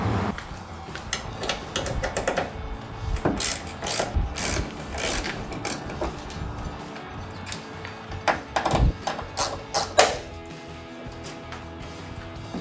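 A 1/4-inch drive ratchet fitted with a Torx 15 bit removes the tail light screws inside the tailgate of a 2019-2023 Chevrolet Silverado 1500, producing bursts of sharp close clicking with pauses between turns and no talking.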